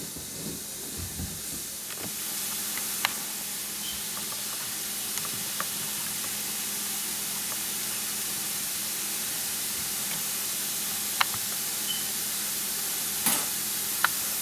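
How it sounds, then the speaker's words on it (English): Vegetables sauté in a pan with a continuous soft sizzling hiss, close and even, broken by a few sharp clicks and light knocks near the start and end; no one talks. "you want to saute them for about 10-15 minutes"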